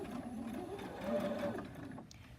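A domestic sewing machine stitching fabric, with a continuous soft motor whir and needle hum that swells slightly mid-run, then stops. Fairly quiet and close, with no talking.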